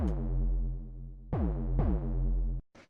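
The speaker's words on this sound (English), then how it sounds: "So this is what it sounds like coming straight out of the wavetable." A buzzy, harmonically rich raw wavetable synth tone holds steady, then re-triggers twice with bright swept attacks before cutting out; a short noisy burst follows. No voices.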